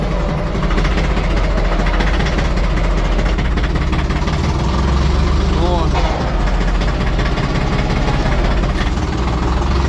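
Small cab tractor in the 24-40 hp class moves off in first gear, its engine running with a steady, loud mid-pitched drone throughout while someone talks over it.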